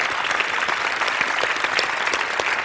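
Loud, dense applause from an audience at the OTO 2013 awards ceremony for a band, many hands clapping steadily and close throughout the brief stretch.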